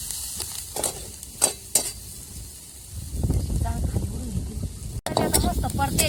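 Onion sautéed for chapati poha in a pan, with a steady sizzle and fry hiss, a few sharp scraping stirs early on and louder frying later, as a voice talks over part of it.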